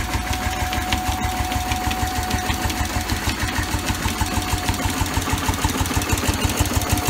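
An old Bessemer stationary engine driving a dynamo chugs close by in a loud, fast, even rhythm of firing pulses, running on its own without voices.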